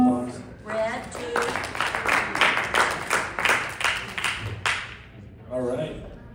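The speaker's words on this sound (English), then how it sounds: "Let's give the scorekeeper a round of applause" An audience claps for the scorekeeper at a junior Bible quizzing event, a steady burst of applause lasting several seconds, with voices heard faintly before and after.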